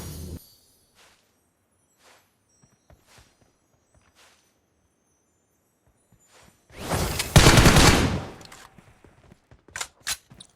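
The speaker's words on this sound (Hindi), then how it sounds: "मुझे थोड़ी गन के साउंड आता है" Gunfire in the mobile battle royale game BGMI: a long, loud burst of shots crashes in midway, preceded by faint scattered footsteps and followed by a few sharper single cracks, with no talking.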